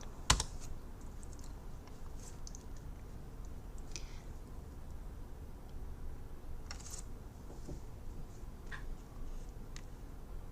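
Someone types on a computer keyboard in a quiet room, with faint, irregular key clicks and occasional louder taps over a low background hum, and nobody speaks.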